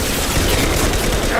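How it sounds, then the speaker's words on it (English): Concussive shot ability firing in Mass Effect 2 Legendary Edition, a dense, continuous burst of sci-fi weapon fire and booming impacts filling the whole moment at steady loudness. "Firing concussive shot!"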